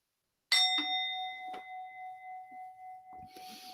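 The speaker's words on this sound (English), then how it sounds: "Take a deep breath each time you hear the bell." A single bell struck once during a church service rings out clearly, with a second soft strike soon after, then a long sustained tone that slowly fades and pulses in waves. Brief faint shuffling follows near the end.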